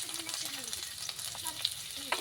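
Chopped green chilli and onion sizzle in hot oil for a potato chop, a soft, steady crackle with small pops and stirring clicks, close and quiet, without talk.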